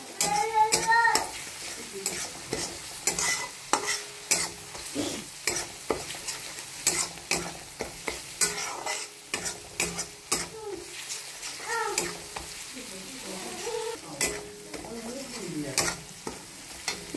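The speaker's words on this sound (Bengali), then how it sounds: "রসুনটা ভালো করে ভেজে নিতে হবে, যতক্ষণ না রসুনের গন্ধটা যাচ্ছে ততক্ষণ রসুনটাকে ভালো করে পেঁয়াজটার সাথে" Garlic paste fries with onions in a pan for a Bengali tadka dal, giving a continuous sizzle broken by repeated scraping stirs and spatula knocks in an uneven rhythm. Faint voices come and go underneath.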